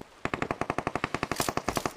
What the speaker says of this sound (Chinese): 235方向有枪声，可以过去看一下。